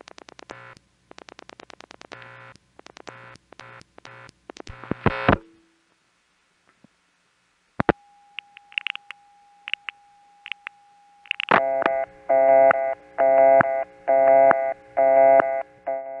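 Telephone dialing tones sound on a second line calling 56031 numbers: rapid bursts of dial pulses, a pause, a long steady tone, scattered clicks, then a rhythmic series of repeated tone bursts, close and clear without speech.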